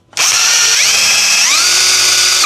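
A power drill bores into wood during construction of a small hut. It starts abruptly as a loud, continuous high whine whose pitch dips twice as the bit bites in.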